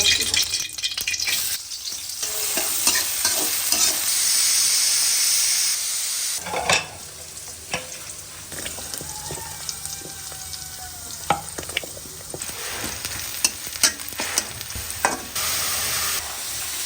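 Onions dropped into hot oil in a home kitchen pan, a loud continuous sizzle and hiss with scraping stir strokes and clattering utensil knocks, briefly dipping then surging again.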